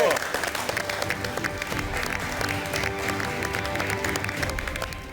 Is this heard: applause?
yes